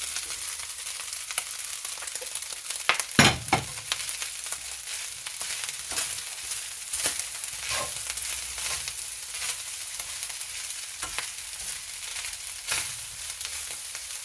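Fried caramelized onions tipped into a pot of Nigerian carrot and cashew nut rice, a steady hissing sizzle throughout with a few sharp clatters and stirring scrapes, close up and with no talking.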